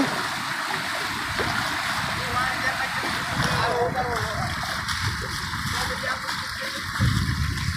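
Shetrunji river in full flood at Akhtariya village, Bhavnagar, with a steady, loud wash of rushing water running throughout and a crowd's voices talking over it.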